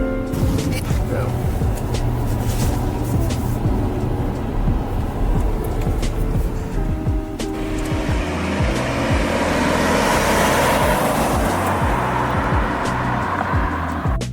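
A 2024 Rolls-Royce Cullinan engine revs up under steady road noise, the roar swelling and brightening partway through as it gathers speed, heard from inside the cabin.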